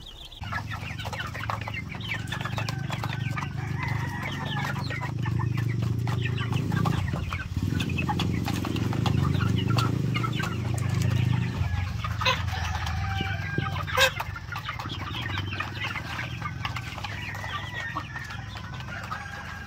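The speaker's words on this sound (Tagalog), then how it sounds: "So ito na yung ibang sisiw natin mga ka-farmers." White Leghorn and Black Australorp crossbred chicks in a farm pen make busy, overlapping peeps and chirps that run steadily throughout, with low clucking and a steady murmur beneath.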